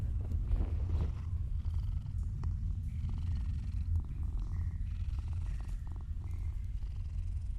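A plump cat purrs steadily in the dark-fantasy video game Mortal Shell, a continuous low rumbling close up and alone, with no talking over it.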